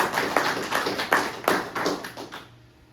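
A brief patter of scattered clapping from a small group, a few sharp claps standing out before it fades away to quiet.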